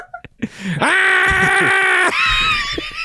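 A human voice imitates Mater the tow truck screaming: one loud, sustained, strained scream held for over a second, followed by a shorter wavering wail, preceded by a few brief vocal noises.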